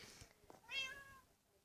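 A cat gives a single faint, short meow, rising and then falling, in a quiet room with soft background noise.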